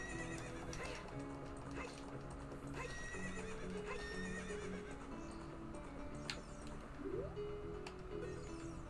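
In Zelda: Ocarina of Time, a horse gives several whinnies over steady clip-clopping hooves, set against a busy game soundscape with faint bird calls, moderately loud, with no talking.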